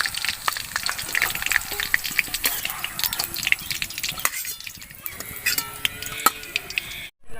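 Sliced onions for beresta fry in hot oil, a close, crackling sizzle with sharp spattering pops and occasional utensil scrapes, easing a little toward the end before cutting off abruptly.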